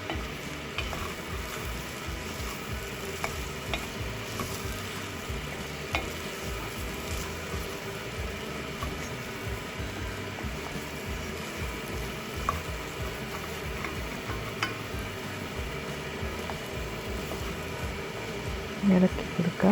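Soup seasoned with smoked paprika being stirred in a pan, a low steady bubbling and scraping with occasional spoon clinks, fairly quiet throughout with a few louder knocks near the end.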